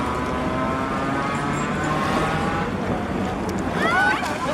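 Mathéo's boat being launched on the water, with steady wind buffeting and splashing water around the hull throughout, a few faint birdlike squeaks near the end, no clear talk.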